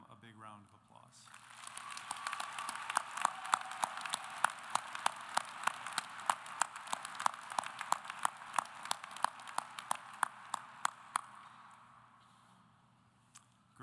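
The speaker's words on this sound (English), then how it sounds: "Let's begin by giving them a big round of applause." A commencement audience breaks into sustained applause that builds quickly into a dense, crackling wash of many hands, with some louder nearby claps, and fades out at the end.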